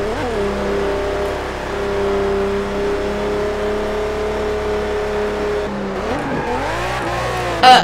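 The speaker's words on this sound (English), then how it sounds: "My car started to skid." A car skids in the racing game Test Drive Unlimited 2, a steady engine drone with a squealing tire tone that bends and wavers near the end, ending in a brief louder burst.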